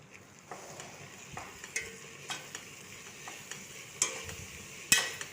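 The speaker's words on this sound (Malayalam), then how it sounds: "ഉപ്പും മഞ്ഞളും ചേർത്ത് നന്നായിട്ട് വഴറ്റിയെടുക്കുക." Sliced onions sauté with salt and turmeric in a pan for beef curry, a soft continuous sizzle broken by irregular scraping and clacking stirring strokes, close by and alone.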